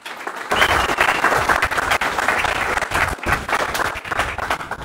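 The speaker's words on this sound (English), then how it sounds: "can we give a round of applause for that?" Applause from an audience at a talk, a dense, loud burst of many people clapping with some cheering in the crowd, continuing steadily for about five seconds.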